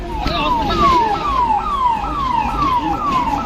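A loud ambulance siren wails in a steady repeating rising-and-falling pattern, close by, over traffic rumble, at an accident scene in Rajendra Nagar, Delhi.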